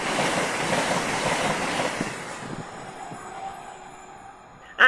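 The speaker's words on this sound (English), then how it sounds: "And there goes the fast train." Fast train rushing past on a London rail line, a loud broadband whoosh that is strongest at the start and steadily fades as it recedes into the distance, ending with a sharp knock.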